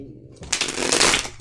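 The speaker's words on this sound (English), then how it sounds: "let's get 6 shuffles since I saw 6" Tarot cards being shuffled by hand, a short burst of crisp riffling and slapping card noise rising after a brief quiet start, close and fairly loud with no voice over it.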